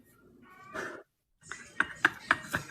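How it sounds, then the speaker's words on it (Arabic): Several short cat yowls in quick succession from a cat in heat, loud and close, following a stretch of quieter vocal sound and a brief pause. "شو هالصوت؟ صوت القطة المهورنة."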